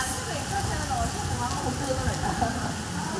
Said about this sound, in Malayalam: ഭയങ്കര മഴയാണ്. മഴ പെയ്തു